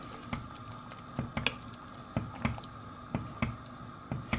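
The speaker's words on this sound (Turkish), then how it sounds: "Kaynamış suyunu da ilave ettim arkadaşlar." Boiled water pouring and splashing into a pot of madımak stew with bulgur, intermittent sloshing drips and splats in an irregular rhythm, close and moderately loud, with no voices.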